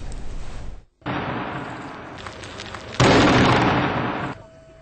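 Israeli airstrikes hit hidden arsenals near a graveyard in Gaza, heavy explosions rumbling in loud sustained waves, with a sharp break early on and a stronger blast surging midway before fading.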